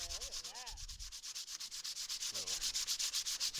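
Body filler on a custom car kick panel is sanded by hand with 80 grit sandpaper, a steady scratchy back-and-forth rasp repeating rapidly and evenly up close.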